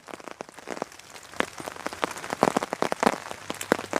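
Steady rain patters on a hammock tarp at a dark campsite, a dense run of close, crisp drops with sharper individual taps scattered throughout, no voices.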